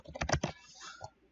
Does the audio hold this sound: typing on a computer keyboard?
yes